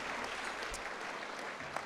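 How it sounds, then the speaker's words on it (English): An audience at an awards ceremony applauds steadily throughout, a dense even wash of clapping from many people with no voices standing out. "So give yourselves a round of applause."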